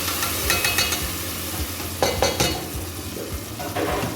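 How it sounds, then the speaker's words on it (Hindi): Onion, green chilies and tomato for butter chicken sizzle and fry in a pan while a spoon stirs and scrapes, with soft clinks against the pan over a steady frying hiss. "और इस मिक्सचर को मैंने पकाना है तकरीबन 3 to 4 मिनट्स के लिए"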